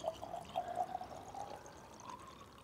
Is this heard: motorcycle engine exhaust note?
no